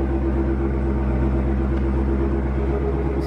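Constant low rumble from a Dodge Hellcat's running engine, a steady drone with layered low harmonics that holds evenly throughout, without speech.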